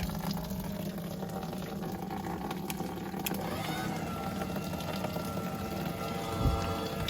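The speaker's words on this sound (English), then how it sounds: "The machine is actually sucking that rain barrel water and pumping it up there." A pump draws water from a rain barrel and pushes it upward, giving a steady churning, splashing water noise with a low mechanical hum underneath, constant throughout.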